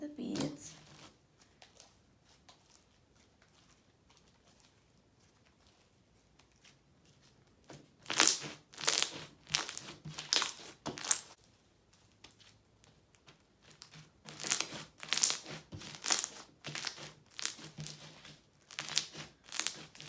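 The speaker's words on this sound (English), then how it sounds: "now I'm just gonna knead in the beads" Plastic beads are kneaded into a white glue slushy slime, making crinkly, squishy bursts of clicking and crackling that come in rhythmic clusters after a quiet stretch, close and fairly soft.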